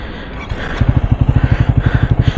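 Triumph Speed 400 motorcycle idling in neutral, its exhaust settling into a steady, close-up rhythmic thump of evenly spaced pulses after a brief rougher start, with no talking.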